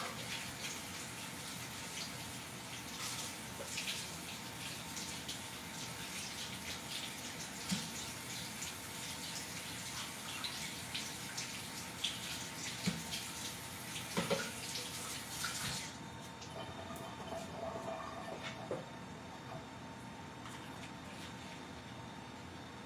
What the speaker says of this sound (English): This water is hot, so I'm going to rinse my cup out.